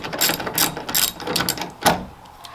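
A hand ratchet turns on a truck bolt, clicking in quick, close bursts of strokes with short pauses between them, loud and with no talk over it.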